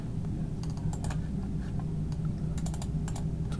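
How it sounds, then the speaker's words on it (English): A computer mouse clicks repeatedly at a desk while painting trees in Google Slides, giving sharp, close taps in loose clusters over a steady low background hum. "so click twice"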